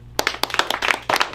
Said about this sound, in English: We can clap for that too